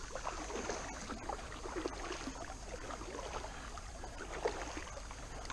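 Kayak paddle strokes dip and splash on Prettyboy Reservoir in a loose repeating rhythm, close and soft, set against a constant hiss of rain and light water noise.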